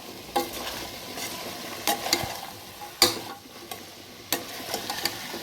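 Chopped carrots and vegetables for a coconut milk veg biryani are stirred in a pot, with sharp spoon scrapes at irregular intervals over a steady low sizzle.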